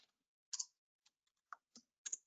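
Typing on a computer keyboard: a handful of sharp, isolated key clicks in an irregular rhythm, close and quiet against near silence, with no talking.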